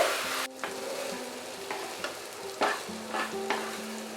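Zarda semai vermicelli being stirred in a pan over medium heat, a continuous sizzling hiss broken by repeated light scrapes and taps of the spoon against the pan, close and without talk.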